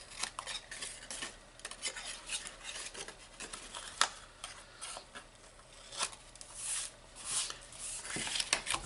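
Scissors cut small pieces of paper for a craft box, making a close, faint series of irregular snips and rustles with no talking.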